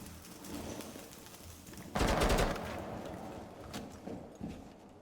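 Gunfire in Rainbow Six Siege: a loud sudden burst of shots near the middle, followed by a few fainter single reports over background game noise, no talk.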